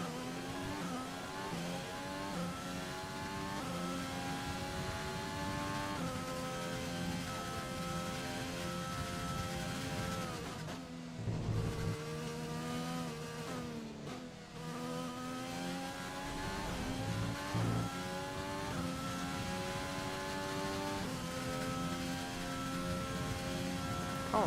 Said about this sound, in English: Oh, it sounds like it's grating along the floor, which to be fair it will be. It's an F1 car.